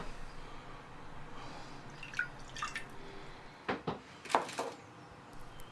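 Small splashes of water going into a sauce of light soy, crushed spring onion and ginger for steamed cod, a few soft drips and pours over a quiet background hiss.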